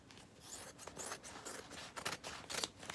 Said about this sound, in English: I'm just going to do a little trim for now to get rid of some of the excess